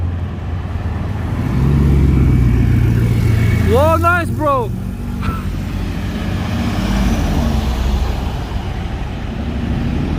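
A convoy of hypercars rolls past on a street in Juan-les-Pins, engines rumbling loud and close, one car rising and falling in a sharp revving whine midway, with a voice speaking over the passing noise.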